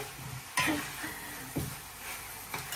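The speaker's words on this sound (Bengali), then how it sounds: "এই নরম মুরগিটা আগে তেলটা ভেজে নিতেছি, একটু হলুদ আর লবণ আর একটু জিরার ফাঁকি দিয়া একটু ভাজা নেই" Tender chicken frying in oil with turmeric, salt and cumin, a steady close sizzle broken by three sharp scraping stirs spaced about a second apart.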